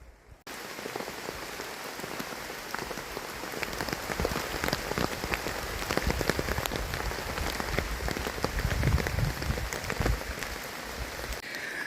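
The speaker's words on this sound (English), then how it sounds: "that rain isn't too far off, as you can see on the tarp there now" Rain patters steadily on a tarp tent shelter, a dense, even drumming of close drops that holds for several seconds with no voices.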